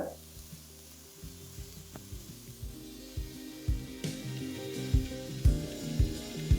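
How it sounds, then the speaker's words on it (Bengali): Vegetables and cooked rice frying in a kadai for veg fried rice, a soft continuous sizzle broken by rhythmic scraping and stirring knocks that grow louder and more frequent toward the end. "ভেজিটেবলগুলো নিচে থাকার কারণে দেখুন ভালো করে কিন্তু ফ্রাই হয়ে যাচ্ছে"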